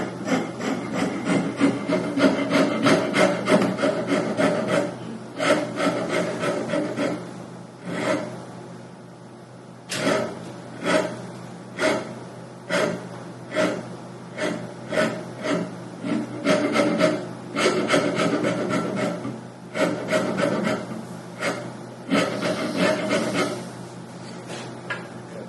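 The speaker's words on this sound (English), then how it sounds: "much easier with the rasp in this part, though" A wood rasp works over a part of a Queen Anne side chair in rhythmic scraping strokes, loud and close, with a short pause partway and no talking.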